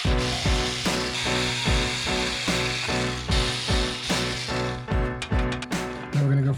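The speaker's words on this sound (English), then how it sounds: "I'm starting off with a small drill bit, which will help keep the bigger size on track" A power drill with a small bit bores into wood, grinding in a rapid series of regular, close pulses as pressure is applied and eased, then ends with a brief clatter.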